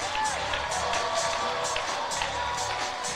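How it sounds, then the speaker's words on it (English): At a high school basketball game at Woodford County, the crowd cheers during team introductions, a continuous wash of voices and shouts with scattered clapping filling the gym. "A nice crowd here at Woodford County tonight."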